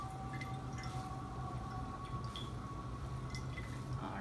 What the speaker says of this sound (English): You're just going to give it a nice big squeeze to get all the excess water out